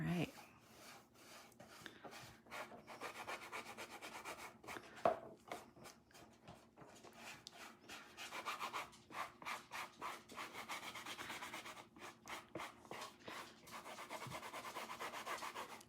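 Gilded leafing embellishment is rubbed onto a paper card in quick repeated strokes, a close, dry scratchy rasping that comes in bursts with brief pauses between.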